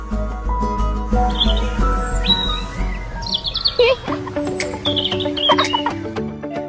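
A crow caws a few times, its harsh calls rising over steady background music that plays throughout.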